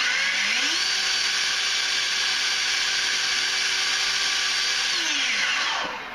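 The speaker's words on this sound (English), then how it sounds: "it definitely is powering the leaf blower" An Ego Power+ cordless leaf blower running on turbo from a XAVITO 4Ah battery: a loud steady whine that ramps up, holds, then spins down at the end.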